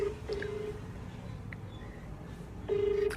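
Outgoing mobile phone call ringing back, two clear tone bursts at the start and end with a quiet gap between, heard close and alone without talk.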